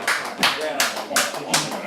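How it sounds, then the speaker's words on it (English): A live crowd at a poetry slam in Orlando claps for a performer, with clapping bursts rising and falling in a steady rhythm under a talking voice. "we'll give her a round of applause"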